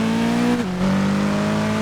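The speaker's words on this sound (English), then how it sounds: "the sound that this car had was pretty good as well" Car engine in Test Drive Unlimited 2 holding a steady, loud drone, then briefly dipping in pitch before settling into a slightly lower sustained hum, with no voices over it.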